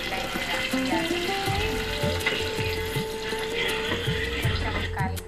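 Cumin seeds and onion sizzling in hot oil for a dal tempering, a close, loud crackling fry with intermittent stirring knocks and a faint tonal hum underneath.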